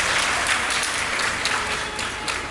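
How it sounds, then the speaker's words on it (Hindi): A seated audience at a religious discourse gives a burst of loud, dense clapping that carries on steadily without a break. "बजाओ जोरदार ताली इस बच्चे के सम्मान।"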